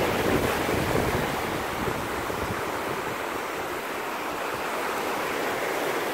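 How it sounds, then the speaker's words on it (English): Broad rushing water and wind noise off Cartagena, Colombia, where boats speed past and throw up spray, a loud continuous wash that swells at first and then settles into a steady roar. "Some zooming action and water being splashed"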